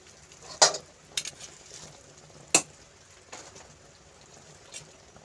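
Sticky rice for biko is stirred in caramelized coconut milk flavored with anise, giving a few sharp scraping clacks of the spoon against the pan over a soft, low sizzle.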